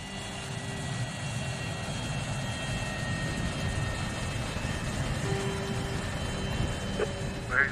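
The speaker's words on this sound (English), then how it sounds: "Routine landing. Nothing to it." Airplane landing heard from inside the cabin, a faint steady engine hum and rumbling airflow with a brief clunk near the end.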